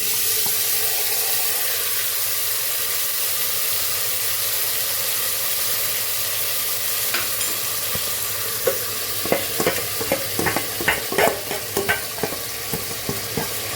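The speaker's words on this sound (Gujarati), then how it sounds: "મેરિનેટ કરેલા વેજીટેબલ આપણે એમાં વઘાર કરી દેવાનું છે." Marinated vegetables for veg biryani sizzle steadily in hot oil, a constant frying hiss, later joined by a series of scraping stirs and clinks.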